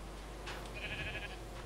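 A sheep bleats in a survival video game, a single short wavering call heard over a faint steady background hum.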